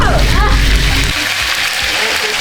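Hot oil in a home cooking pan spattering and popping after wet food goes in, a loud continuous sizzle with crackles that eases after a second.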